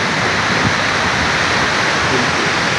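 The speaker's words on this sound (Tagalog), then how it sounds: "Alright, mga kalibre, ang lakas ng ulan" Heavy rain pours steadily and loudly, a dense, unbroken roar of falling water close by with no pauses across the whole stretch.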